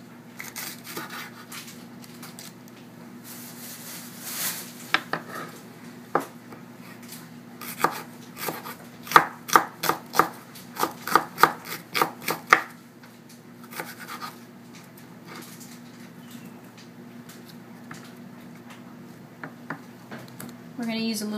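A knife chops red pepper on a cutting board in a burst of quick, crisp knocks, fairly close, between quieter stretches over a steady low hum.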